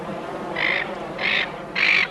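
A silver gull gives three harsh, evenly spaced squawking calls, fairly near and loud over a soft background hiss.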